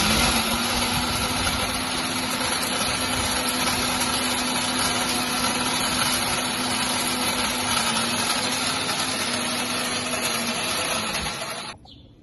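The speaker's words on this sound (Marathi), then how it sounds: "सगळं इन्ग्रेडियंट्स होतं ते एकत्र करून आपण बारीक करून घेतले" An electric grinder pulverises camphor, cinnamon, cloves and sandalwood into fine incense powder, giving a loud, steady whirring drone that runs unbroken for about eleven seconds before winding down and cutting out.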